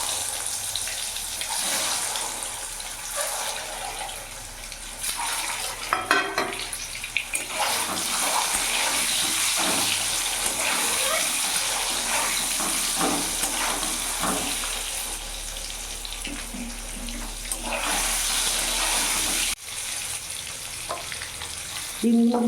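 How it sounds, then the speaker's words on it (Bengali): Eggs fry in oil seasoned with salt and turmeric, giving a loud continuous sizzle and crackle that runs steadily throughout with faint scraping. "এরই মধ্যে আমি এক একটা ডিম ছেড়ে দেবো।"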